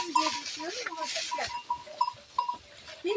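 Sheep and lambs bleat in a pen, several overlapping wavering calls close by, with a faint metallic clink and people talking quietly around them.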